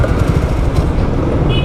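A motorcycle fitted with an ENUSIC CJ720 GPS alarm that has cut off the engine: a loud, dense mechanical churning close to the microphone as the starter cranks, with the engine failing to catch.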